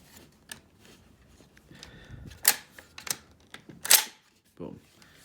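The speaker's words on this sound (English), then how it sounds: "I was just fiddling with the bolt release." Metallic clicks and clacks from the bolt release of an airsoft gas blowback M1 Garand converted from an M14, a few sharp snaps among softer handling noises, with a voice speaking.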